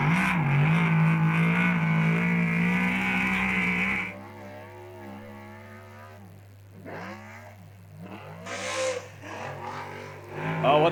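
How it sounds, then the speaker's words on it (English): Mitch Vickery's superstock race car engine at the 2022 Wellington Superstock Shootout, a loud sustained rev that drops abruptly to a rougher, lower idle with sweeping pitch changes and bursts of throttle. "what a unique sound from Mitch Vickery's car"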